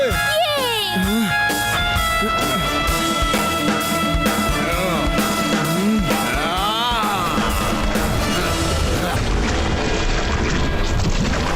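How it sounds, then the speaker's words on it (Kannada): A cartoon antidote bomb goes off against a monster, giving booming, crashing blasts within a dense, continuous bed of animated music and sound effects. "ರೇವಾ, ನಾವ್ ಈ ಮಾನ್ಸ್ಟರ್ನ ಈಗ ಆಂಟಿಡೋಟ್ ಬಾಂಬ್ ಇಂದ ಸಾಯಿಸಲೇಬೇಕಾಗುತ್ತೆ"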